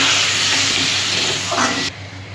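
Water poured into a pan of vegetarian vegetable curry after the spiced vegetables have been sautéed, a steady loud hiss and splash that cuts down sharply near the end.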